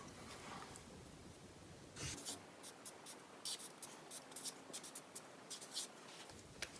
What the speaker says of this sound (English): We start with the paper and on the top we write shapes.